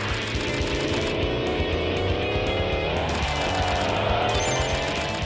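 Tires squeal and an engine drones steadily as a car drifts downhill in the PS2 racing game Tokyo Xtreme Racer Drift, loud and continuous with the pitch sliding as the car slides.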